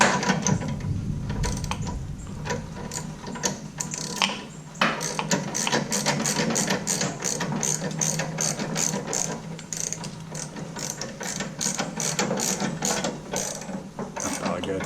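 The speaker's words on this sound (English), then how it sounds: "So with the scissor jack underneath, we're going to go ahead and lift this bike up" A scissor jack is cranked to lift a Harley-Davidson Dyna motorcycle off its rear wheel, with rapid repeated ratcheting clicks and metallic grinding going on steadily and close by, with no talk.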